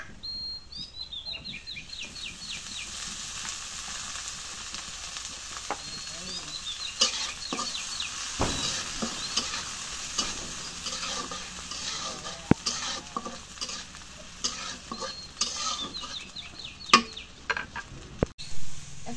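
Oil sizzles in a cooking pan on a home stove, a steady broadband frying hiss with scattered sharper crackles and a few clinks, no talking, lasting throughout at moderate level.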